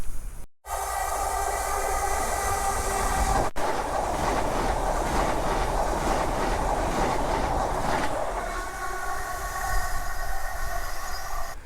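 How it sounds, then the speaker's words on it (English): A train rumbles past close by on the Upper Mill Viaduct with a steady roar and rhythmic clatter of wheels, easing off toward the end. "And there's a train. That's good timing."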